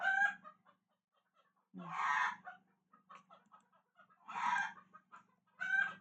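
Chickens cluck and a rooster crows in loud bursts, separated by quieter clucking in the gaps, with no talking.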